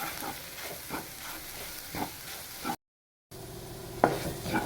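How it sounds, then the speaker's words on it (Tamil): Egg keema masala roasting over a slow flame with tomato, stirred with a spoon in a pan, soft repeated scraping strokes over a faint sizzle, broken by a short silent gap, then a louder clatter. "இது வந்து மசாலா கருகாமல் ஸ்லோ ஃப்ளேமில் வச்சு இந்த தக்காளியோட ஈரத்துலேயே வந்துட்டு இந்த மசாலா ஃபுல்லாக வந்து நல்லா ரோஸ்ட் ஆகணும்."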